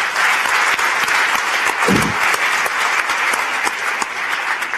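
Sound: audience applause

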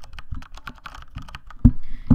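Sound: typing on a Corsair mechanical keyboard with brown switches

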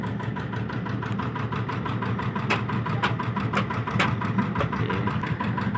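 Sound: Tata 75 HP generator engine running

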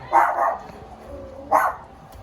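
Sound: dog barking

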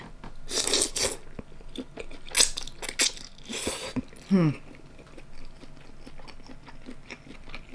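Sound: eating fresh beef with som tam (papaya salad)

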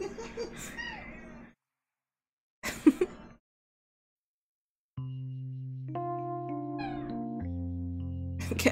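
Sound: cat meowing

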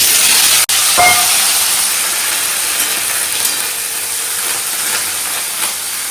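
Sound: potatoes frying in hot oil with whole spices

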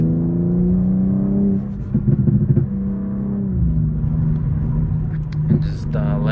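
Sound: Stage 2 tuned BMW M4 Competition engine while driving

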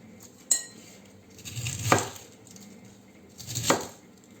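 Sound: knife cutting food

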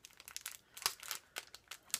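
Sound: opening a plastic package of stickers

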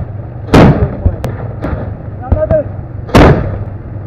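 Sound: gunfire in combat

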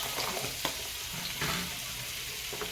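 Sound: refined oil and butter sizzling in a pan for gravy

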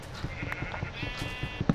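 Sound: sheep bleating in video game Minecraft

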